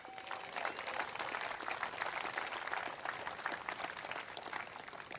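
A political gathering's crowd applauds county party members, a steady wash of many hands clapping at moderate distance, continuous for the whole stretch without clear speech.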